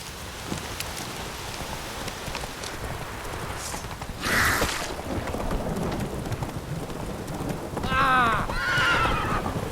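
Roach, the horse in The Witcher 3, whinnies loudly twice near the end while hooves clop along over steady rain and low rumbling, with no voices.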